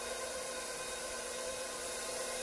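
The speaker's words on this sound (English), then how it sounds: "we're going to turn our mixer back on." An electric mixer beats butter and sugar into brown-butter cookie dough, giving a steady, even motor whir with a hissy, noisy texture that holds constant throughout, with no voices.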